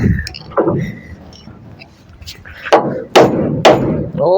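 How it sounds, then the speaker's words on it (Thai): A hammer drives a nail into wood while a house is being built, with several sharp, loud knocks in an uneven rhythm close to the microphone and voices talking between the blows. "ตอกดอกหนึ่งก่อน"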